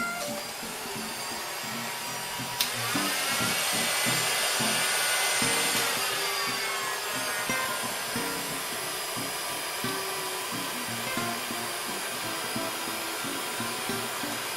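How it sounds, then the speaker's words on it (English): A heat gun blows a steady, loud stream of hot air to melt embossing powder on chipboard, running continuously and alone with no voices. "Right, you're going to use your heat gun."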